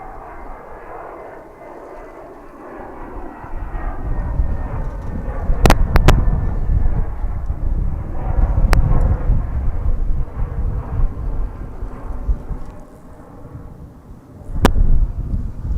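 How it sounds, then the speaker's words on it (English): An American Airlines Airbus A321 departs DFW for Salt Lake City with a loud, steady jet-engine roar that swells and holds, marked by a few sharp clicks. "That was American Flight 2065, an Airbus A321 off to Salt Lake City"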